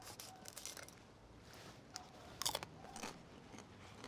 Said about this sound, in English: I heard that crunch.